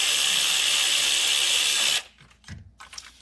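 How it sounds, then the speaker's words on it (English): A cordless ratchet with a 3-inch extension and 10mm deep-well socket whirs loudly and steadily for about two seconds, unbolting the valve cover on a 2014 Ford Explorer, then cuts off, leaving faint clinks and handling sounds. "I'm gonna go ahead, unbolt this valve cover."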